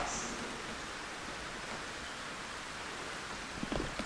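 Steady broadband hiss of rain falling, constant and fairly close, with a faint thump near the end.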